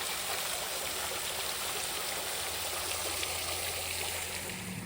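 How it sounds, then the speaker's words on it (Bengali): A waterfall lit up at night pours steadily, a broad continuous rushing wash of water that stays even and fairly close throughout with no voices. "ঝর্নাটা"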